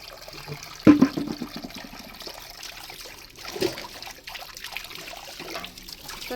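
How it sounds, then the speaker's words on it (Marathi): Water trickles and splashes as dishes are scrubbed clean by hand. A sharp clatter comes early, followed by softer splashes at intervals. "तर चला, घेते भांडी घासून,"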